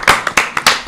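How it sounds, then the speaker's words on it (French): A few people clapping in a French live-stream studio show, giving several short, loud bursts of claps in an uneven rhythm, close by, with no talk. "On peut s'applaudir pour mettre un peu d'ambiance"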